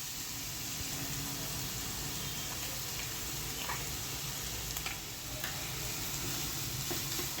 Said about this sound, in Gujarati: હવે આપણી ડુંગળીનો થોડો કલર ચેન્જ થાય ત્યાં સુધી આપણે એને સાતળવાની છે. પણ ડુંગળીની સાથે આપણે આદુ લસણની પેસ્ટને બી એડ કરી દઈશું.